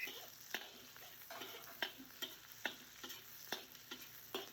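Onion and garlic fry quietly in a pan while a utensil stirs them, giving a soft steady sizzle broken by regular clicking scrapes roughly every half second.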